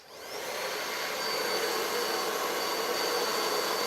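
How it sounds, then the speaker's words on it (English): Blow dryer running on low heat while drying a wig, a steady loud airy whoosh that swells up in the first second and then holds constant, with no talking. "then you take your blow dryer, low heat"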